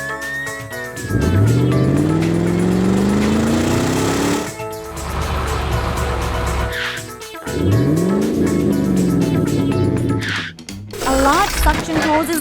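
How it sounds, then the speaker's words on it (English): Animated car skidding on oil spilled across a road near a cliff: loud engine and long tire squeals that rise and fall in several swerving passes, with music throughout. "A car approaches and skids on the oil."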